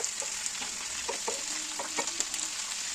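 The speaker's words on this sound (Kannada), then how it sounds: "ಪಾಲಾಕು ಕಾಲ್ ಕಪ್ ಆಗೋಷ್ಟು ಅರ್ಧ ಕಟ್ಟು ಕೊತ್ತಂಬರಿ ಕೊತ್ತಂಬರಿ ಸೊಪ್ಪು ಇದಿಷ್ಟು ಎಣ್ಣೆಯಲ್ಲಿ ಫ್ರೈ ಮಾಡ್ಕೋಬೇಕು ನಾವು" Spinach and coriander leaves frying in oil, a steady loud sizzle with scattered pops and crackles, close up, with occasional stirring clicks and no talking.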